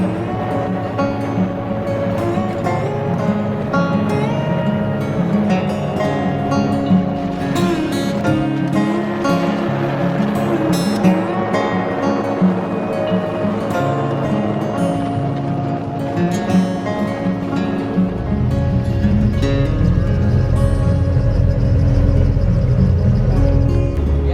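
An airboat runs in the Everglades with a loud, steady engine and propeller roar throughout, holding a rumbling drone that swells heavier and deeper toward the end as the boat powers up.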